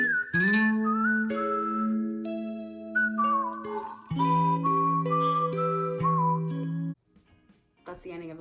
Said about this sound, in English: you know how at the end he whistles?